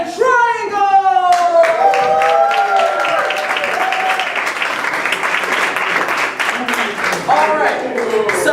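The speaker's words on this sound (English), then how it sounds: "let's go ahead and give a big round of applause for my improv team" Loud, sustained audience applause and clapping greet an improv comedy team at a live show. It swells after a voice at the start and carries on steadily to the end.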